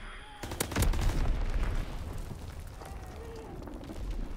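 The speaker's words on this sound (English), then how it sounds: "Enemy strafing run incoming! Get to cover!" Gunfire from an enemy strafing run in Call of Duty: WWII, a loud burst of shots and impacts near the start that trails into rumbling battle noise.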